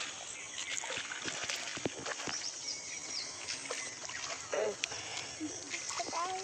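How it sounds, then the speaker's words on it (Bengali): Water scooped and poured at an outdoor bathing ghat, with irregular splashes and trickles over a continuous watery wash; birds and voices sound faintly in the background. "তো জয় ওখান থেকে জল তুলে ঢাল"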